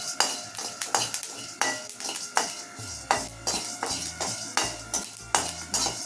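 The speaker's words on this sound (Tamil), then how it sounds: "கடலைப்பருப்பு, தனியா, மிளகு, ஜீரகம், உளுத்தம் பருப்பு 2 போட்டு வறுத்து" Chana dal, coriander seeds, black peppercorns, cumin and urad dal dry roasting in a pan for a spiced kuzhambu, a spoon scraping and rattling the pan in steady repeated strokes, close and fairly loud with no talk.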